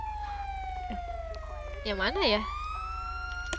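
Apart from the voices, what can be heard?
EMS vehicle siren in GTA roleplay video game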